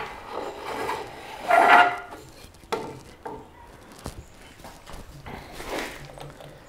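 A jack plane (varlope) is pushed by hand across wood during hand flattening and planing, giving a few scraping, hissing strokes with one louder swipe, close and moderately loud, with no talk.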